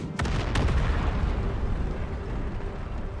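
Cannon fire in the Empire: Total War battle game, two sharp booms at the start followed by a dense, sustained rumble of distant artillery and battle noise.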